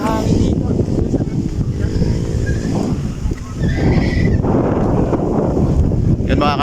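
Loud wind buffeting the microphone in steady gusts on Grace Hill, Binangonan, a paragliding site, with people talking over it.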